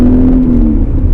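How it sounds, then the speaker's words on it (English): Induction roar from a 2002 BMW E39 M5 on stock exhaust, a loud, close, brief surge of deep engine rumble with a rising whine as it revs. "just the pure induction noise"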